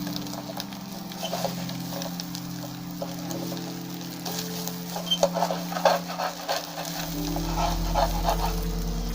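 Nopal cactus pieces frying in oil in a pan, a continuous close sizzle with scraping and stirring bursts as the pieces are flipped, over a steady low hum.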